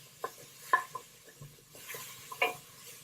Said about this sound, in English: That you just want to cook onions until they're kind of translucent.